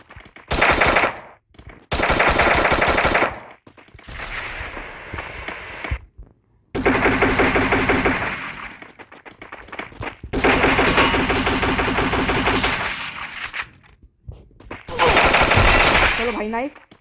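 Bursts of automatic gunfire from the Free Fire battle royale video game, loud rapid volleys in several separate stretches with short gaps between them.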